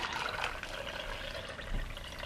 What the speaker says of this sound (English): So I'm going to go ahead and pour my solution in.